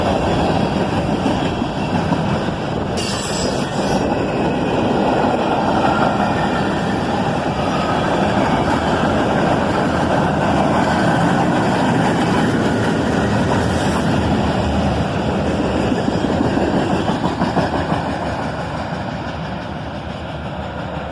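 A freight train hauling green Cabrasa Industries hopper cars rolls past, a loud continuous roar of wheels and rail clatter that holds steady, then eases slightly near the end.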